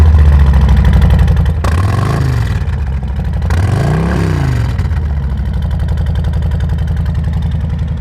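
A Harley-Davidson motorcycle at a dealership in Joplin revs loudly up close, its idling rumble rising in two sharp throttle blips before settling back to a steady, throbbing idle.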